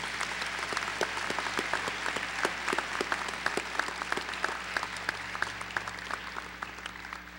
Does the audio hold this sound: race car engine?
no